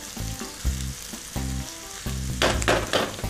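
Garlic tossed into carrots frying in a pan, sizzling in bursts that swell louder at the end, with no voices.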